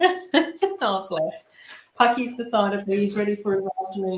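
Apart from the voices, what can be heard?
No everyday noise stands out behind the speech.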